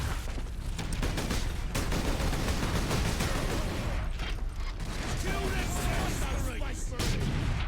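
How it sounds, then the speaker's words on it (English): A grenade explodes amid constant heavy gunfire and battle noise in the Warhammer 40k: Space Marine video game, loud and dense throughout, with no clean break around the blast. "Oh, grenade."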